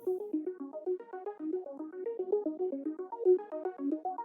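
Unprocessed synth melody sequence from the Hybrid 3 Summer Dream preset, a steady run of short plucked notes with occasional octave jumps, dry and moderately quiet, no voices.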